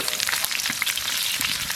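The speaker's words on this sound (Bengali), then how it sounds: "ডালে ফোড়ন দেবো, তার জন্য সর্ষের তেল দিয়ে দেবো কড়াইতে। তেজপাতা, জিরে, শুকনো লঙ্কা।" Bay leaf, cumin and dried chillies sizzle in hot mustard oil in a kadai for a dal tempering, a close, steady crackling fry with small sharp pops throughout.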